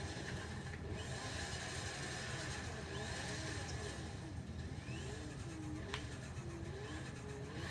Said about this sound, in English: el like Richard Hammond with the Noble M600, just constant turbo noises